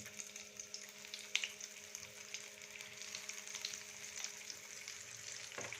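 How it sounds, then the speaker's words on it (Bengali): Marinated eggplant sizzles steadily in a hot pan, a constant crackling hiss with a few sharper pops and clinks of stirring. "বেগুন যে ম্যারিনেট করে রেখেছিলাম ভাজার জন্য দিয়ে দেবো"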